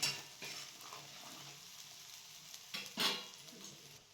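Fish masala with garam masala being sautéed in a pan for chilapi fish fry, soft sizzling under scattered scraping stir strokes and a few louder spatula clinks, fairly quiet and without voices.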